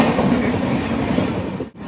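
Mysore Express passenger train running on its tracks, a steady loud rumble with rhythmic wheel clatter heard from inside a sleeper coach, cutting out briefly near the end.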